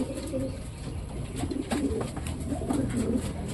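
Racing pigeons coo repeatedly as they settle into their loft, soft throaty calls recurring in a steady rhythm over a continuous backdrop of ambient outdoor noise, close and moderately loud, with no talking.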